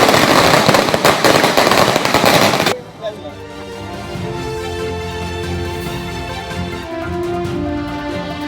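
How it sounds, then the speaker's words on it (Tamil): Firecrackers burst in a dense crackling barrage at a public celebration in Thoothukudi, loud for about three seconds before dropping away to background noise and talk. "பட்டாசு வெடித்தும் இனிப்பு வழங்கியும் பொதுமக்கள் கொண்டாட்டம்."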